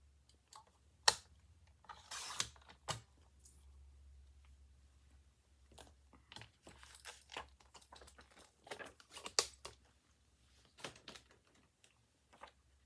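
Paper ephemera being cut for a Christmas craft folio, with scattered crisp snips and crinkles at an irregular pace, close and fairly quiet, no talking.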